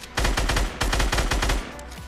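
Automatic rifle fire in the Fortnite video game comes as two quick bursts of sharp, loud shots in rapid succession, with a brief pause between the bursts and no talk.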